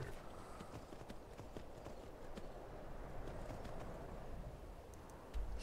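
Steady clip-clop of a horse's hooves walking at an even pace in Skyrim with the Requiem mod, with a soft ambient bed and a brief thump near the end.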